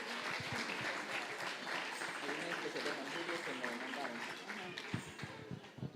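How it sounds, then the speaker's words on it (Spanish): At a Father's Day gathering, a small audience applauds fathers and their children, a soft, fairly distant clapping with voices talking over it, thinning out toward the end. "aplaudimos por favor a los hermanos, sus hijos."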